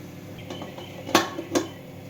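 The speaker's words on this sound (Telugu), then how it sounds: "స్టవ్ మీద పెట్టేశానండి ఇప్పుడైతే మూత అయితే వేసేద్దాం" A metal lid goes onto a pressure cooker sitting on the stove, making a few light metallic clinks followed by two sharp, close clanks of metal on metal against a quiet kitchen background.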